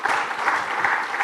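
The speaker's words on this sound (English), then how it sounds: "A round of applause, please, to Dr. Tari." Conference audience at a Kenyan blockchain and crypto event clapping, a brief dense burst of steady applause from a crowd indoors.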